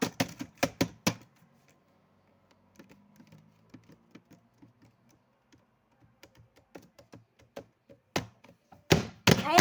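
Computer keyboard keys pressed in bursts during a GTA session: loud rapid clusters of clacks at the start and end, with sparser scattered taps in between, heard alone at close range.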